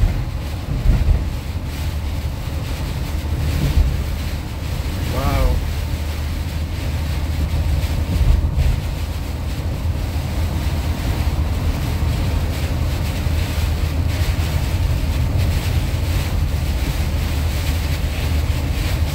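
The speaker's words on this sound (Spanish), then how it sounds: "Hay mucho viento." Strong storm wind roars steadily on Highway 225 in La Porte, Texas, with a continuous loud rumbling buffet of gusts against the microphone for the whole stretch, and no talking.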